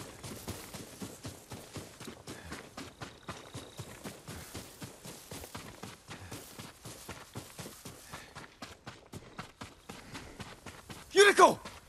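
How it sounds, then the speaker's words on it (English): Horse hooves from the video game Ghost of Tsushima clop in a steady walking rhythm, fairly quiet and evenly spaced throughout, ending with a short louder burst. "Okay, so a horse is there."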